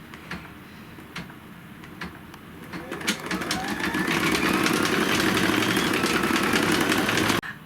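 An embroidery machine stitches a stem fill pattern, its rapid mechanical ticking and motor whir starting soft, then rising to a steady, louder run before cutting off abruptly near the end.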